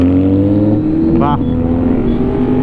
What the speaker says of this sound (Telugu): అసలు చెవులు వలిగిపోతున్నాయి దాని సౌండ్కి అయితే. అస్టిన్ రేసింగ్ ఎగ్జాస్ట్ ఉంది యమహా R1M.